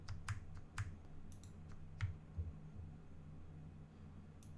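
A handful of sharp, isolated computer mouse clicks at close range over a steady low hum, spaced irregularly with quiet gaps between them.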